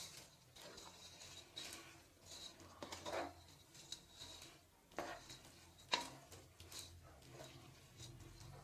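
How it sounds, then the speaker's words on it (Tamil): A ladle works through semiya kichadi in a pan, giving quiet, irregular scrapes and light metallic clinks against the sides. "நாலா பக்கமும் இந்த மாதிரி கிளறி விடுங்கம்மா"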